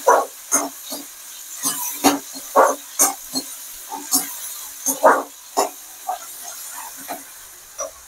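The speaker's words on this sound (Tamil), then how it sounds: "தக்காளி நல்லா வதங்கட்டும்." Tomatoes sautéing with onions in a pan for appalam kuzhambu, a soft sizzling hiss broken by a series of irregular close scraping and spattering bursts, about a dozen over several seconds, with no talking.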